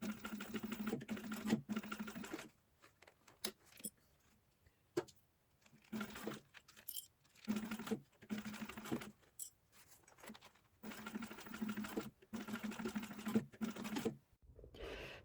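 A sewing machine stitches back and forth along the edge of a zipper pouch in short bursts of rapid whirring, separated by brief quiet pauses.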